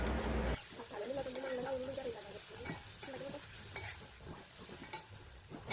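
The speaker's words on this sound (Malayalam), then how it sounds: "അങ്ങനെ സവാളയൊക്കെ ഒന്ന് വാട്ടിയെടുക്കാം" Onions with salt sauté in a pan with a soft, steady sizzle and occasional stirring scrapes, while someone talks over it in Malayalam.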